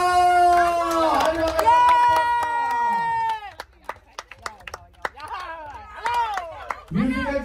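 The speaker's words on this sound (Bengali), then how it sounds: "একটু জোরে হাত তালি দিয়ে দাও" Hand claps at a family celebration during a musical chairs game. Voices call out at first, then scattered, uneven sharp claps ring out near and fairly loud before talking resumes.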